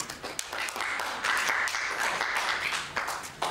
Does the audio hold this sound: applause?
yes